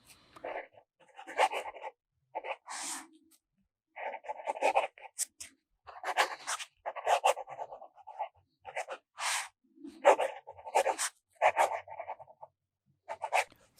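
A fountain pen with a double broad nib scratches across paper in short, quiet strokes with brief pauses, close up and alone without talk.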